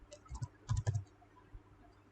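Quick keystrokes on a computer keyboard typing a command on a Debian server, a short close burst of clicks in two small clusters, then quiet.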